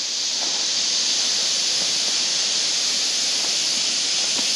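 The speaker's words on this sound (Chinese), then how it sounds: "听蝉鸣。" Cicadas by a clear river under shady trees, a steady, dense high-pitched buzzing drone that holds at an even, fairly loud level throughout with no pauses.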